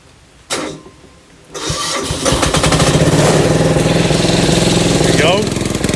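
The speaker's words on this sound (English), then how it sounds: "I'm going to fire this up now, and hopefully the battery's been on charge" Engine of an auger being started for its first run, cranking briefly then catching into a loud, steady running drone that fills the rest of the clip, with someone speaking over it.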